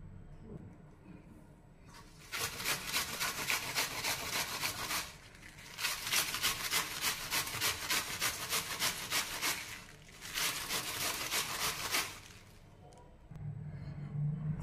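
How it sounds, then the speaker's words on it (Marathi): A cabbage section grated by hand, close rasping strokes in three long bursts with short pauses between them, fairly quiet and with no talking. "आता असे भाग करून मी हा कोबी किसून घेणार आहे।"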